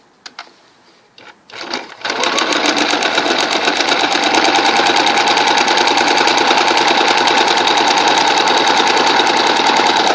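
A sewing machine runs long basting stitches, starting after a few clicks and then holding a loud, close, rapid mechanical chatter without pause.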